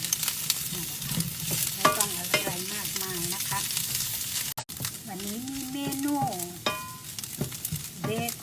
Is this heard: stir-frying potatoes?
yes